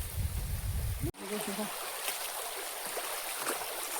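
Water runs and trickles steadily, close by, after a brief loud rushing burst and a sharp cut at the start.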